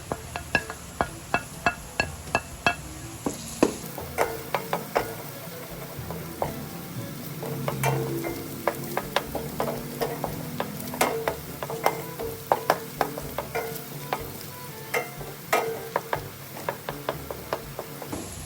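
Chopped garlic sizzles in oil in a pan for carbonara, a continuous frying hiss broken by frequent sharp clicks and scrapes of a spatula stirring, fairly close and with no voices.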